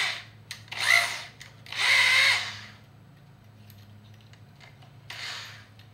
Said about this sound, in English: Should be a lot easier to drill now.